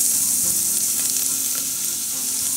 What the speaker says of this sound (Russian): Масло нагрелось, и добавляем чеснок.